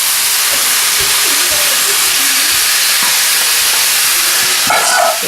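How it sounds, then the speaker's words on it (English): Tomatoes hit a hot pan for a venison osso buco and set off a loud, steady sizzle and hiss, with a few soft knocks of the pan underneath. "I'm going to add the tomatoes."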